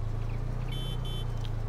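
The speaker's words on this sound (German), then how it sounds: "Hupe, ja, ist gut hörbar" A Lada Niva's horn in Farming Simulator 22 gives two short, clear honks, nearly evenly spaced, over a steady low engine idle.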